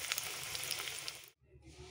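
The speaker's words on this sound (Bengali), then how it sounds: "এরপর আমি আলুটা ভেজে নেব। আলুটা প্রায় ভাজা ভাজা হয়ে গিয়েছে" Potato pieces fry in hot oil in a pan with a soft, steady sizzle that cuts out for a moment, then returns quietly.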